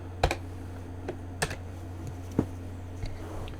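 A computer keyboard being typed on to enter a new folder name, a handful of separate keystrokes spaced irregularly, close and moderately loud over a steady low hum.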